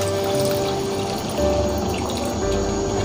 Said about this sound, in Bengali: এবার চিকেনের মধ্যে আমি পরিমাণ মতো জল অ্যাড করছি।